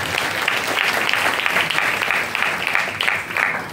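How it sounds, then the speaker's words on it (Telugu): At a Christmas church service, a congregation claps loudly and steadily, a thick wash of many hands applauding together throughout. "చప్పట్లు కొట్టి గట్టిగా ప్రభువును."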